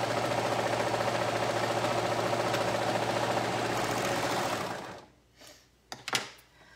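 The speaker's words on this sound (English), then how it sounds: "That was kind of stressful sewing those side seams." A sewing machine stitching the side seams of a thin striped dress runs in a steady, close mechanical whir for several seconds, then stops, followed by a few small handling clicks.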